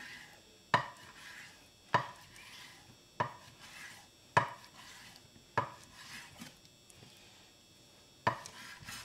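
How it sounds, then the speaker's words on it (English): A sharpened knife cuts through bacon in seven distinct strokes roughly a second apart, each a crisp close chop on a board with a soft rasp in between, quiet overall. "we'll go ahead and cut the bacon"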